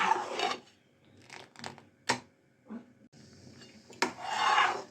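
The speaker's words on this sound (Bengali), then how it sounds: "প্রত্যেকবারই নাড়তে নাড়তে কিন্তু কড়ার সাইডগুলো একটুখানি চেঁচে চেঁচে নিতে হবে" A spatula stirs and scrapes the sides of a wok while mango kalakand cooks, giving soft, intermittent rasping strokes, some quick and some drawn out, close and fairly quiet.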